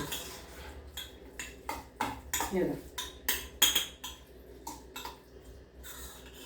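A spoon stirs grated beetroot salad with salt and sugar in a bowl, making a rhythmic series of close clinks and scrapes about every half second.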